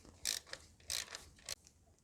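A wrench ratchets on a 12mm bolt holding the EGR valve of a Toyota Yaris Hybrid, giving three bursts of close metallic clicking separated by short pauses.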